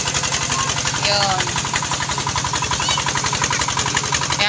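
A steady, rhythmic engine chugs continuously near irrigated rice fields in rural Pampanga, its close, even pulsing filling the whole stretch, with a brief voice over it.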